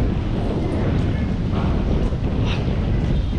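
Steady sea wind buffets the microphone along a coastal road by the shore at Matina Aplaya in Davao City, a constant low roar with faint surf beneath and no break.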